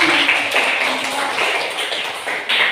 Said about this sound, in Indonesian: kita kasih aplaus dulu buat teman-teman